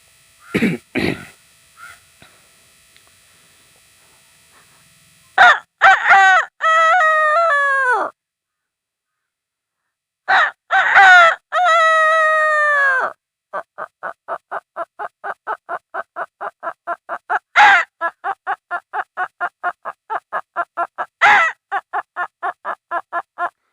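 A man mimics a rooster, with a few loud drawn-out crowing calls followed by a long rapid run of clucking bursts.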